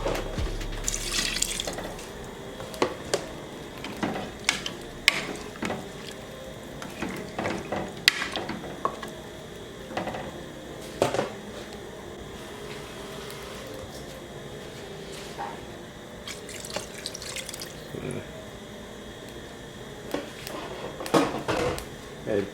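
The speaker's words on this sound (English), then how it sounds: "I just need a little bit more water to kind of cover it a little." Tap water runs into a cooking pot in a home kitchen while Jamaican brown stew turkey neck is prepared, a steady low trickle with scattered clinks and knocks of the pot and utensils.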